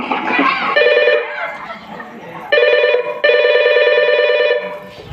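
A telephone ringtone sounds in repeated bursts of steady electronic tones, with brief gaps between them, after a moment of talking at the start.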